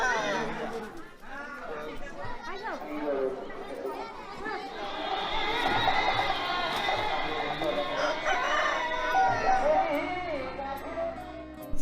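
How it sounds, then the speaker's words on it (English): A rooster held ready for a cockfight in a Sundarbans village crows loudly and at length over busy crowd chatter and clucking, close by and sustained for several seconds. "Like this guy standing with his rooster ready for a cockfight."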